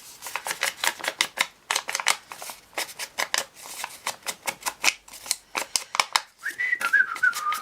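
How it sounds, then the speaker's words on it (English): A string of quick clicking and snipping noises from close-up crafting work, with a short whistled tune rising at the end. "Just whistling while I work here."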